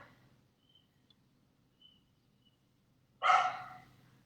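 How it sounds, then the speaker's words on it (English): A single short bark from the dog next door sounds at a distance in a quiet room, with faint high chirps earlier and a low steady hum underneath. "as the dog next door slowly starts to wake up"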